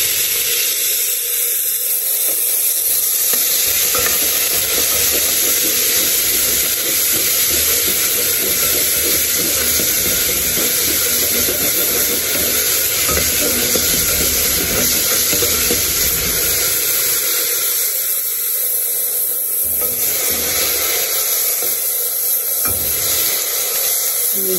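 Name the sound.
onion and parsley frying and being stirred in a pan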